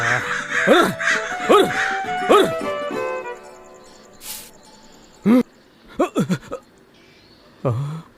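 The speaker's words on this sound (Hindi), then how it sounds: "कौवे किसी चीज को देखकर कोलाहल मचा रहे थे।" Cartoon crows caw in a raucous flock, several harsh calls in a steady rhythm at first, then scattered louder caws after a pause, close and clear with no talking.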